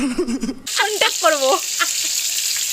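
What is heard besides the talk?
fish frying in a pan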